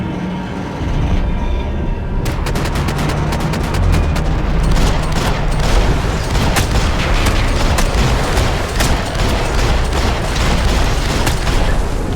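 Heavy gunfire from a Max Payne 3 shootout, dense rapid bursts of shots over a loud continuous roar that fills the clip, with no talk heard.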